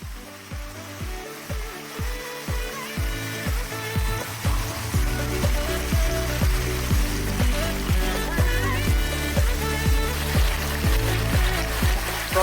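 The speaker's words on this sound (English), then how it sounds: "Proper hailstorm here." Hail pelting down in a storm on the Pacific Crest Trail, a dense steady hiss and rattle of stones against ground and gear, with a repeating rhythmic thump of footsteps as someone runs through it, loud and close.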